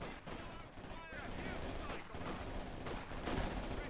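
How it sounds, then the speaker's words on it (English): Rapid machine gun fire rattles through a Company of Heroes 2 World War II battle, sustained dense bursts layered with other gunfire and explosions at a steady, loud level. "Machine gun firing away."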